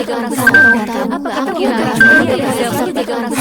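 A telephone gives short electronic dialing tones before a call, with two brief beeps spaced over a few seconds and voices talking underneath.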